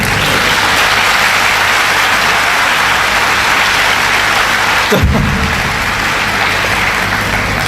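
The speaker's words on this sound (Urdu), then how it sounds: "تو لوگ تالیاں بجا رہے ہیں" Dense, loud applause from a large university lecture audience, a continuous wash of clapping with one brief bump midway and no voices rising above it.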